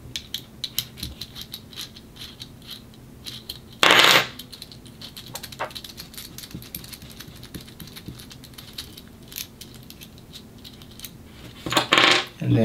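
Small screws being taken out of a rig for a Sony A6600 camera, with faint ticking and light clicks of handling throughout and two louder bursts of scraping and rattling parts.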